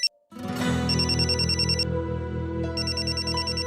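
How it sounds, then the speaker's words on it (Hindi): A telephone ringing indoors during a village drama scene, with a steady electronic ringtone repeating its bright chiming pattern loudly and close, alone without talk. "देखिए एक फोन आ रहा है, बहुत जरूरी है।"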